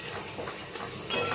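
Onion frying in hot oil with dry red chilli and five-spice seeds, giving a steady close sizzle with light stirring, then a sharper, brighter burst of crackle near the end.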